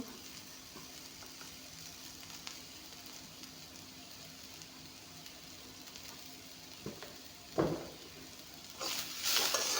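Onions with salt fry in a pan in a soft, steady, low sizzle, with a few brief clinks and scrapes of stirring toward the end.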